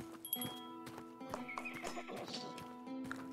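Horses whinny and hooves clip-clop as mounted guests ride up to a tavern in the video game Tavern Manager Simulator, with a game soundscape of steady tones behind several close hoof beats.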